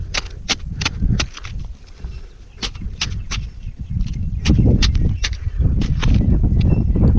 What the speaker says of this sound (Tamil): இந்த இடத்துல தோண்டி பார்ப்போம்